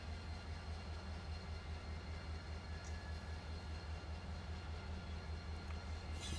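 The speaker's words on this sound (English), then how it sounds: "Two locos are powering out at 4 on this as well" Two diesel locomotives powering out at notch 4 in the Run8 train simulator give a steady low engine drone and rumble, continuous and even throughout.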